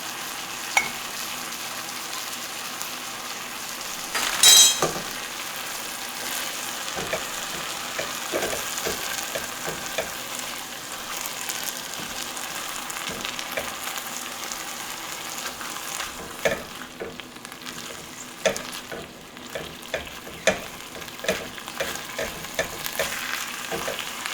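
Mushrooms and their liquid frying in a pan, a steady close sizzle with intermittent stirring clicks and scrapes, a louder burst early on and otherwise a continuous bubbling crackle.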